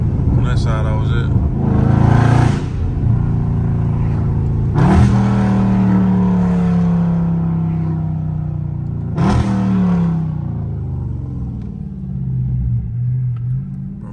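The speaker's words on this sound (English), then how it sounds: "Y'all let me know y'all rocking with my downshifts or not, bro." Catless Dodge Scat Pack engine revving hard and downshifting in traffic, with repeated loud blips and deep exhaust rumble rising and falling several times, close and loud throughout, with a voice talking over parts of it.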